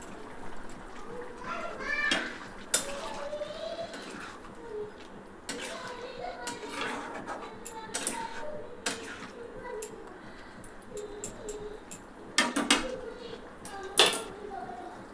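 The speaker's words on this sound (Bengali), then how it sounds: "এরপর এটাকে নাড়াচাড়া করবো" Chicken curry with meat masala is stirred in a pan, producing intermittent metal scrapes and clinks of a spoon against the pan, fairly quiet, with faint birdsong and background sounds.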